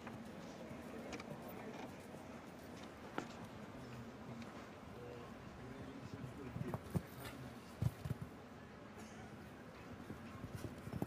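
Hoofbeats of Dennis Lynch's show jumper All Star 5 in the 2015 Aachen individual final, striding over a steady arena murmur with a few sharper thuds toward the end, while a commentator talks.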